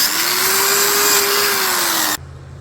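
A power drill whirs loudly at a steady high pitch for about two seconds while restoring a propane tank, then cuts off abruptly into quiet.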